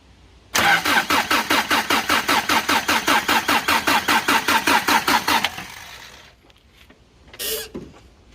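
A Toyota 22R-E engine after a top-end rebuild cranks over on its starter, giving a fast, even, loud chugging rhythm for about five seconds that stops without catching, followed by quiet shuffling.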